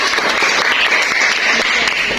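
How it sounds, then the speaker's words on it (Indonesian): Classroom of students clapping for a classmate, a short burst of loud, dense clapping that carries evenly across the whole moment. "Beri tepuk tangan kepada Nur Fadila."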